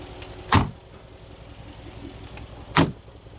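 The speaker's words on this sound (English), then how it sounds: "Don't you just love the clankety clank of the doors?" Two solid clanks of car doors shutting on a Mercedes G-Wagon G63 AMG, spaced about two seconds apart, close and loud over a faint steady background hum.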